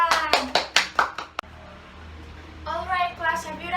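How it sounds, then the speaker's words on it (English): Short burst of classroom clapping for a student, a few loud hand claps in quick succession, with a teacher's voice and children talking around it. "Give applause for your friend."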